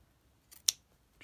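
A quiet room, then a single crisp snip of scissors cutting, with a softer click just before and a faint rustle after.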